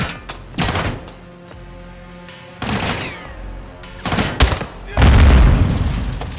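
Frag grenade blasts in Call of Duty: Modern Warfare II, with several heavy booms and bursts of gunfire across a battle scene, ending in a loud, close explosion.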